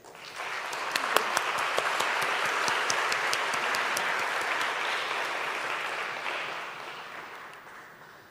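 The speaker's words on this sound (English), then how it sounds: "A warm round of applause, please." A large conference audience bursts into warm applause at a Three Minute Thesis competition final, swelling quickly to a dense, sustained clatter of clapping before tapering off toward the end.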